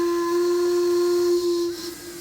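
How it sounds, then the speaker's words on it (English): The steam whistle on the Duchess of Sutherland locomotive gives one loud, steady, piercing blast lasting about two seconds, then trails off into hissing steam. "Can I blow the whistle?"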